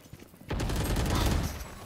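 A sudden burst of rapid gunfire erupts halfway through and rattles on loud and dense in a round of the video game Valorant. Quieter sounds precede it.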